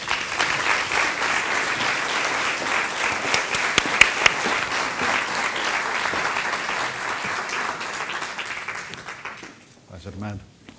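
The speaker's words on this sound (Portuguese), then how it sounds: "Uma salva de palmas para Germano Silva." An audience at a public talk and conversation event in Porto gives sustained, dense applause for about nine seconds, then it fades out and a few voices are heard.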